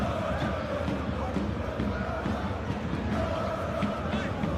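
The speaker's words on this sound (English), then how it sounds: "Crowd appreciates good football all round there." Steady broad crowd noise fills an eFootball 2021 stadium during a simulated Champions League match between Bayern Munchen and PSG, a continuous roar of cheering and applause from the stands with no pauses throughout.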